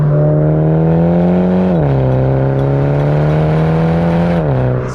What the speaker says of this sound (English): Immediately what I find in here versus the JCW is the road noise.